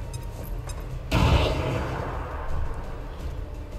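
Grenade detonating in the XCOM 2 video game: one sudden heavy boom with a rumbling tail that decays over a couple of seconds, close and loud over low ambient game sound.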